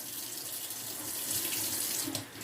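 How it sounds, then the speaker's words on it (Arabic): Steady running tap water pours into a kitchen sink as soap is rinsed off, a continuous close splashing hiss with no talk. "يلا بينا نشطف ده كمان عشان الصابون"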